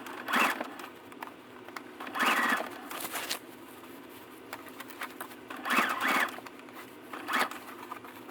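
A sewing machine stitches curtain fabric for an RV trailer in short whirring bursts, each run a second or so long, separated by quiet pauses, close and fairly soft.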